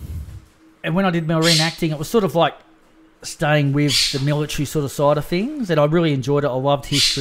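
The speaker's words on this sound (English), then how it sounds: "But they're being extra vocal today." Birds squawk loudly and repeatedly in the background while someone talks almost continuously in the foreground, their harsh calls partly masked by his voice.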